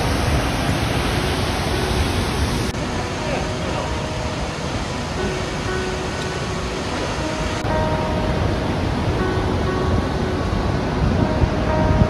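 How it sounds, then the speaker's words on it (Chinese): Steady, dense roar of a waterfall beside the Half Dome trail in Yosemite, a continuous broadband rush that stays loud and even throughout, with no break and no voices over it. "这就是第一个瀑布"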